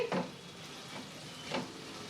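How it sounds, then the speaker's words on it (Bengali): Cheese stirred in a frying pan as it melts, with a quiet background sizzle broken by a few soft scraping stirs at spaced intervals, close and fairly faint. "এবার চিজটা মেল্ট হওয়া অবধি আমি এটাকে একটুখানি নাড়িয়ে নেব"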